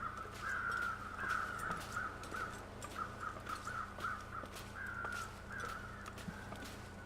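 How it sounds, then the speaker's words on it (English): Several crows caw repeatedly at a moderate distance in the video game The Long Dark, harsh calls spaced irregularly over a low steady background hum. "hear crows"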